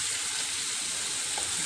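Chopped garlic sizzles in hot olive oil for a chicken masala, a steady, even frying hiss that stays close and fairly loud for under two seconds with no voices.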